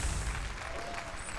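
Audience at a StarCraft 2 grand final at IEM gamescom 2011 gives a brief round of applause, a dense, even clapping wash lasting about a second.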